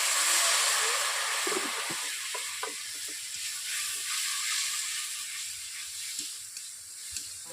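Steady bright hiss of spices sizzling in a pan as a splash of water goes into the ground coriander and cumin, with a few faint clinks and scrapes underneath, no voices.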